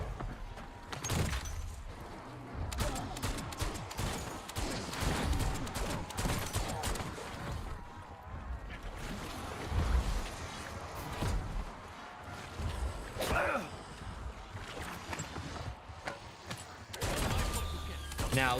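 Weapon fire in Black Ops 7 Zombies comes as scattered, fairly quiet shots and impacts among game effects, spaced unevenly rather than rapid, while a person talks over it.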